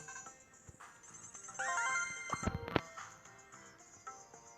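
Brawl Stars treasure box opening in a mobile game: bright chiming jingles and rising sparkly tones, a couple of sharp whooshing hits near the middle, then a sustained high shimmer, fairly quiet overall with no talking.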